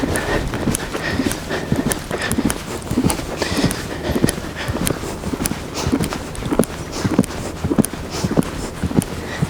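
A horse's hooves clip-clop steadily across ground as it moves, a continuous run of thudding footfalls at a close, even pace that carries through to the end.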